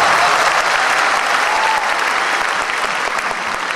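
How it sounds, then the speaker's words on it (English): Graduates in robes at a university commencement ceremony applauding themselves, a loud, dense wash of clapping from a large crowd, steady throughout and tapering only slightly at the end. "clap for yourselves"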